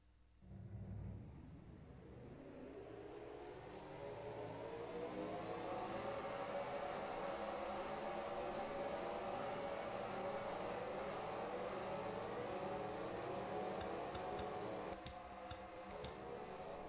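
Several race cars pull away from the start in a Hot Wheels Cup Series racing video game at Auto Club, a steady layered engine whine building and holding loud and continuous throughout.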